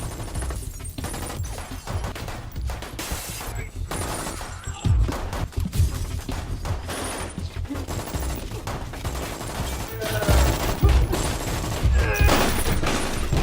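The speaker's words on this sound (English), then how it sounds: "They take out their guns as well, and a gunfight breaks out" Gunfight in a film, one man shooting it out alone against his whole crew indoors: dense bursts of gunfire and rapid volleys rattle throughout, with louder crashing shots swelling near the end.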